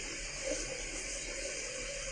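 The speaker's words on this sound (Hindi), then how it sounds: "थोड़ा सा पानी" Water runs steadily from a tap as someone splashes a little onto their face before shaving, a constant gentle hiss and trickle with no speech.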